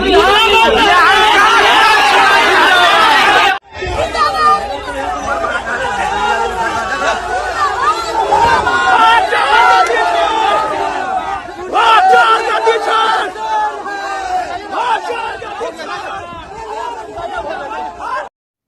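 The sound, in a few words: crowd chanting Vijay Sinha zindabad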